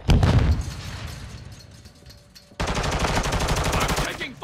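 Call of Duty gunfire: a heavy burst of shots opens, fades into a lingering roar, then a rapid machine-gun stream of evenly spaced loud cracks takes over and runs to the end.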